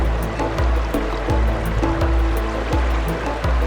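Creek water along the Ozark Trail flows and splashes in a continuous close rush, with low rhythmic surges repeating through the clip and no talking.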